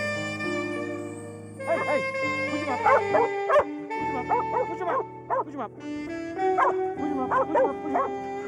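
A sheepdog working scattered merino flocks on an isolated Australian station barks and yips repeatedly in short bursts, close and loud over a sustained tonal background hum, with brief whimpering calls between.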